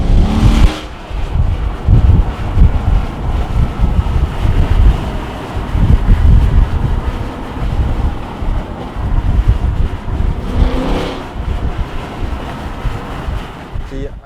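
A modified 2015 Ford Mustang GT tuned to 525 hp drives along with a steady, loud engine and exhaust drone, mixed with heavy wind buffeting throughout.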